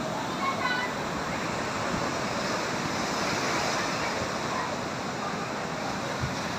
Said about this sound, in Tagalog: Hindi pwede maligo, malakas yung alon bro, no?